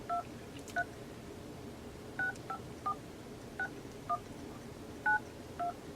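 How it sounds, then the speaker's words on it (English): A telephone keypad sounding a string of short, clear two-tone DTMF beeps while a phone number is dialed, spaced unevenly over a faint steady background hiss, with no voices. "So I'm going to try calling this number and seeing if he answers."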